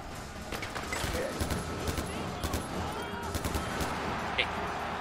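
AK rifle gunfire in the video game Far Cry 4, repeated sharp bursts of automatic shots crackling at moderate volume, with a voice speaking over them.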